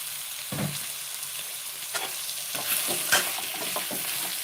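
Coconut and garlic fry in a pan for sprouted-gram sambar, giving a steady close sizzle broken by intermittent scraping stirs, with no voices.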